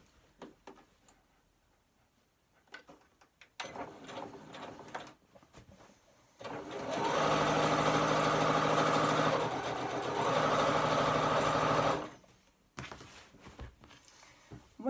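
A Butterick EB6100 sewing machine stitches through four layers of fabric for a garden cushion, running in a loud steady whir for several seconds after short bursts and clicks of handling.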